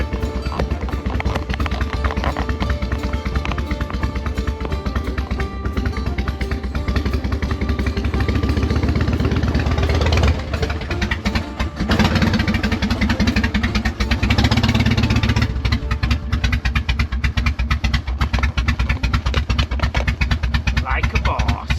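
Harley-Davidson Fat Boy motorcycle engine idling, a loud, close, steady low rumble with some clatter that runs throughout, swelling slightly midway as the bike is loaded.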